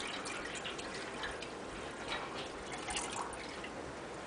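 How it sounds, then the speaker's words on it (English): Water pours steadily into a home-brewing kettle on a prototype automated brewery, a continuous close splashing fill with small drip-like detail and no talk over it. "go ahead and add some water to the kettle"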